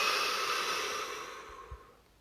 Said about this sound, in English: Now take a deep breath